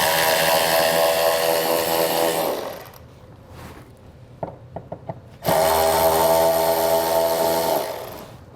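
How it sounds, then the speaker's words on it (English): A power ratchet or impact tool with a 10mm socket whirs loudly as it spins nuts off studs in the wheel well of a 2022 Audi SQ5. After a pause with a few clicks, a second long burst follows. "We're gonna use our 10mm socket to remove those."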